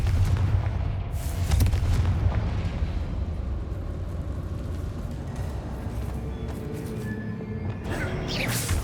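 Fiery explosions from the Confringo spell in Hogwarts Legacy, a rumbling, booming blast that rolls on with crackling debris and scattered sharp bursts over a steady low roar, with no speech.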